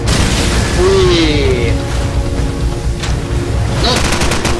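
Loud continuous gunfire bursts and booming explosions from the Call of Duty 4 remake, with rapid shots over rumbling blasts and a voice speaking excitedly throughout.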